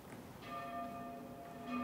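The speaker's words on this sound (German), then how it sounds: "die beiden Glocken von St. Veit läutet, trägt der Oberwind ihren Klang die Talsohle hinaus" Two church bells of St. Veit ring faintly across an alpine valley on a summer day. Their sustained tones shimmer at a distance beneath soft wind and background ambience.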